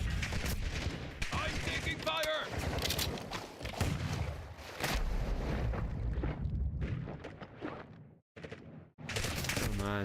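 Sustained automatic gunfire and explosions in Call of Duty Black Ops 6 multiplayer, dense rapid bursts nearly continuous over ten seconds with brief drops near the end, loud, with players talking over it.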